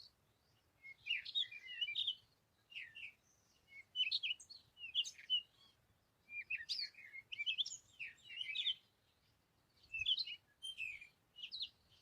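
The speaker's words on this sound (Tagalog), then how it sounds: "maligtas at mapayapang umaga habang umaawit ang mga ibon" Birds sing in the morning, bursts of bright chirps and warbling phrases repeating every second or two at moderate distance, with quiet gaps between and no other sounds around them.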